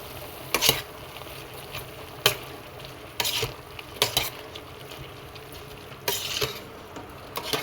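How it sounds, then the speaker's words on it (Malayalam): A spoon scrapes and knocks against a pot of mutton curry, giving several sharp, separate clinks at irregular intervals over a quiet background. "ഇളക്കി വെക്കുക ഉപ്പിട്ട്"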